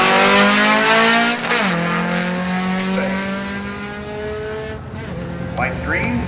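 A drag racing car launches down the strip at Woodburn Dragstrip during a fall elimination round, its engine climbing in pitch through a gear change before easing off, loud and close, with an announcer talking over it.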